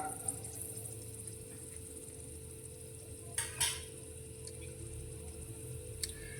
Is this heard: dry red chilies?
yes